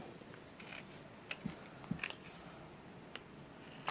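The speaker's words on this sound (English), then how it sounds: "And then let's cut around that." Scissors snip around a small paper card tag for card making, a few sparse, faint, close clicks and crisp cuts spaced irregularly over a quiet background.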